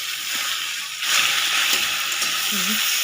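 Elephant apple frying in hot oil with panch phoron and mustard seeds for a Bengali chutney, a steady broadband sizzle that rises louder about a second in and holds with light stirring.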